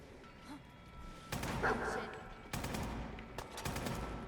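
Gunfire in a modded Fallout 4 playthrough, with several loud volleys of rapid shots against a low game background and someone speaking.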